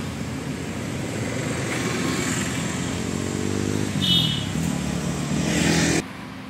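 A Hyundai Grand i10 car pulls away with a rising engine hum and gear-change sweeps, the steady mid-level drive noise lasting several seconds before dropping off abruptly near the end.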